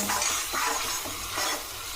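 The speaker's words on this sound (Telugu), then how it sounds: "కరివేపాకు వేసుకొని వేగిన వరకు కలుపుకోవాలి." Curry leaves fry in hot oil for an Andhra-style fish curry, their crackling sizzle broken by several scraping stirs of a spoon against the pan, close up and with no voices.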